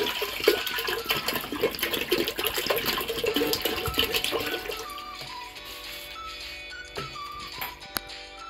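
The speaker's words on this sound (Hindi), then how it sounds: "कुकर में मैं पानी डालूंगी" Water pours from a tap into a pressure cooker in a home kitchen before masoor dal is cooked, a splashing, rising fill that gives way to quieter drips and small metallic clinks.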